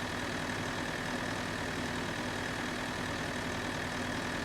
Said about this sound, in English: as we come around with the tractor and trailer